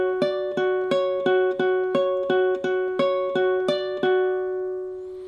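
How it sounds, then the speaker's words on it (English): Baritone ukulele plucking a movie theme, a rapid run of about a dozen bright, evenly spaced notes in a repeating pattern, close and clear, ending on a ringing final note with no talk. "So the first part sounds like this."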